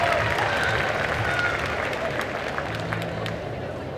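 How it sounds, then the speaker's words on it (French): A crowd at a cosplay contest claps loudly and steadily, the applause gradually tapering off, with some murmured voices underneath. "On l'applaudit bien fort, s'il vous plaît"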